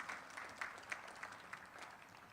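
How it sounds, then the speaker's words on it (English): A crowd at a building dedication event claps briefly in scattered, faint applause, a short patter of distant hands with no voices over it. "please give yourselves a round of applause"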